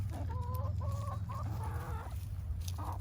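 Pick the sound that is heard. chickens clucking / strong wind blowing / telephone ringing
chickens clucking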